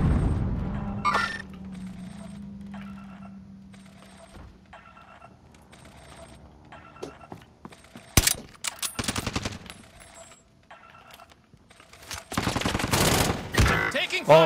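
Rapid automatic gunfire bursts from Call of Duty: Modern Warfare, loud and close, repeated in several volleys with booms and game sounds between them, plus a brief voice.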